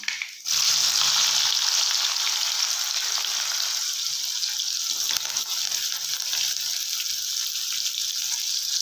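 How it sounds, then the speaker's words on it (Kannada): Mustard seeds, cumin, curry leaves and chopped onion frying in hot oil for a North Karnataka-style potato curry: a loud, dense, steady sizzle bursts in after a brief pause and carries on close up with no voices. "ಸಾಸಿವೆ ಚೊಟ ಚೊಟ ಅನ್ನಕತ್ತವ ಜೀರಿಗೆ ಹಾಕೊಳ್ಳೋಣ ಇವಾಗ ಕರಿಬೇವು ಹಾಕೊಳ್ಳೋಣ ಅದು ಕಟ್ ಮಾಡಿಸ್ಕೊಂಡಿರೋ ಈರುಳ್ಳಿ ಹಾಕೊಳ್ಳೋಣ"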